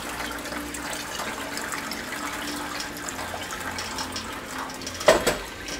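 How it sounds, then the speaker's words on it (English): Hot sparge water at about 70 degrees poured over grain for a sweet gale gruit ale, a soft continuous trickle and splash close by, with a brief louder clunk near the end. "I'm just going to sparge with a liter of water that I heated up"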